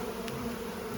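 Honey bees buzzing at an Ontario hive as foragers return with pollen on their legs, a steady close-up hum that holds evenly throughout with no voices.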